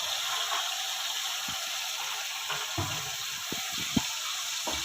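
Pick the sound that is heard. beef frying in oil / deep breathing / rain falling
beef frying in oil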